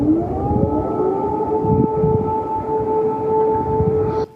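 An air raid warning siren wails over Kyiv in the early morning, a steady sustained tone holding loud and close for about four seconds before cutting off abruptly.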